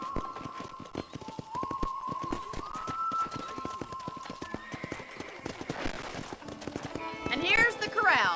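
Horse hooves clip-clop steadily in Red Dead Redemption, a brisk regular rhythm close by, while a voice talks over it and a horse whinnies near the end.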